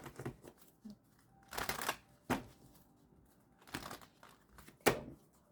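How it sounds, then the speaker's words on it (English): A tarot card deck is shuffled in several quick riffling bursts separated by quiet pauses, crisp papery flutters with small taps and rustles, close and fairly soft. "Okay, that was a bad shuffle."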